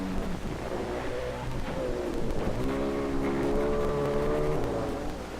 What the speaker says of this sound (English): the crowd picks up the roar of the engines, streaking past the last buoy